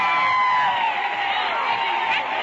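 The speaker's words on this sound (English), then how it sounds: "Now listen to this cheering." A huge 1927 Washington reception crowd cheers Charles Lindbergh, a loud sustained roar of voices with whoops and shouts, heard through an old radio broadcast recording.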